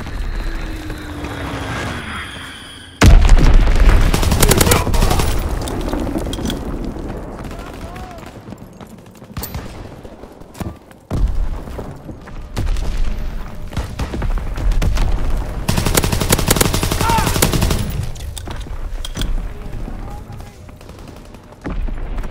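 Enemy bombs and gunfire in a Call of Duty: WWII flak tower battle, a loud close blast followed by rolling rumble, scattered shots and further booms, with voices shouting throughout.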